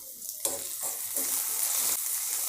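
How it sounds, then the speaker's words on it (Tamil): Onions sautéing in a pan with asafoetida and curry leaves for a Tamil ridge gourd kadayal, a steady close frying sizzle with stirring scrapes that swells in bursts, no talking. "வெங்காயம் இவ்வளோ வதங்கினா போதுங்க."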